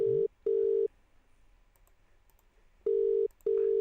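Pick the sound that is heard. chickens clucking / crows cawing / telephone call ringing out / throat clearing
telephone call ringing out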